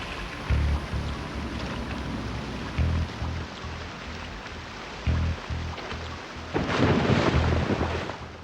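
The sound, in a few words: rain in a cave, video game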